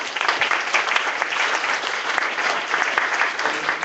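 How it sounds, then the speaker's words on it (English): An audience at an early-stage investment program applauds Hyde Park Angel members, a steady, full round of crowd clapping lasting about four seconds with no talk over it. "Great, a round of applause for you."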